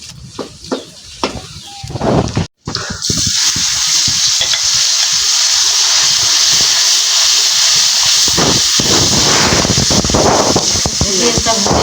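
Onion and spices hit hot oil in a pan for a spicy village-style chicken curry with kohlrabi, a few clattering stirs giving way to a loud, steady, close sizzle that fills the rest.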